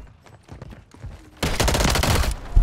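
MTZ battle rifle fire in Call of Duty Modern Warfare III bursts out in a loud, rapid string of close gunshots after quieter game sounds and footsteps.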